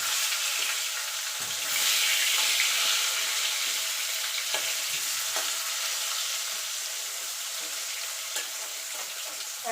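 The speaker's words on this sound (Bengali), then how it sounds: "এবার এই তেলে আলুটা ভেজে নেব।" Potatoes frying in hot oil left over from frying boal fish, a steady, loud sizzle of crackling oil with occasional brief stirring scrapes and no talking.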